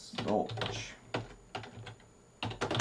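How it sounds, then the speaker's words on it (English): Keys clack on a flat metal-rimmed keyboard in short irregular bursts with pauses between them, close and fairly quiet, partly under a speaking voice. "I laid my hands upon the flat metal-rimmed keyboard"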